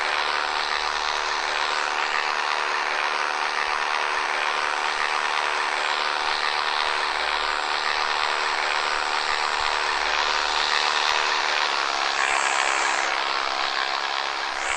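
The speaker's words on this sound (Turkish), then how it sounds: "Şu anda uçağa binmiş" A continuous airplane engine drone in the video game PUBG hums steadily throughout, even and unbroken, with a slight shift in tone near the end and no talking.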